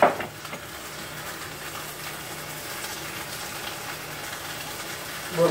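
Steady, soft sizzling of hot dogs frying in a pan, a continuous crackling hiss with a faint clatter at the start and end.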